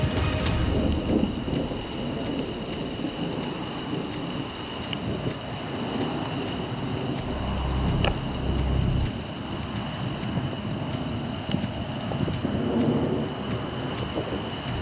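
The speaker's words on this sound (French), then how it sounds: "Je crois que c'est le plus bel orage de la saison pour l'instant en France" A violent supercell thunderstorm in the Beaujolais, France, heard as a continuous rumbling wash of rain and wind with a deeper roll of thunder midway and faint ticking throughout.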